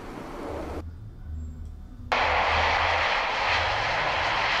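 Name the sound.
propeller aircraft engine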